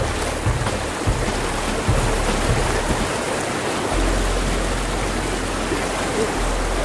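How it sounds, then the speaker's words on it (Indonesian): A fast, shallow river current at Pelabuhan Ratu in Sukabumi, West Java, rushes in a steady, close, broadband wash with occasional low thumps, continuous throughout. "ini deras banget loh walaupun nggak terlalu dalam tapi deras loh"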